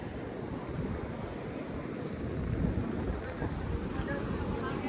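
High-tide sea waves at Harihareshwar surge and wash forcefully and continuously against the shore, a steady roaring rush with gusty wind buffeting the microphone, swelling slightly midway.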